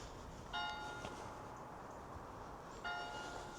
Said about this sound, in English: The division bell.